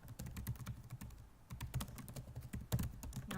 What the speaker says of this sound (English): then you type your school